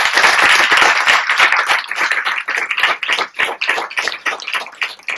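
A crowd at a meditation centre gathering in Kaithal claps loudly, the separate sharp hand claps densely overlapping at first, then thinning into more scattered, uneven claps as it dies down.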